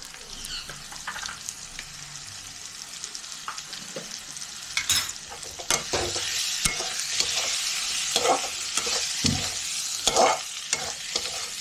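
Ginger going into a pan of potatoes and peas frying for ghugni: steady close sizzling with repeated scraping stirs of a spoon, louder clattering strokes toward the end, no talking.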